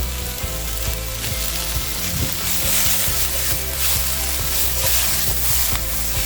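Chopped carrots sauté in a hot pan with a steady, close sizzle that carries through the whole stretch, with a few faint utensil clicks and scrapes mixed in and no voices.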